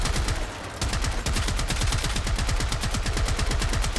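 Trumna rifle in a video game firing in rapid automatic bursts, loud close shots following one another in a fast, steady rhythm after a brief pause near the start.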